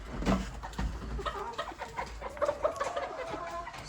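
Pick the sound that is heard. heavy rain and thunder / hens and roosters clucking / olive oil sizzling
hens and roosters clucking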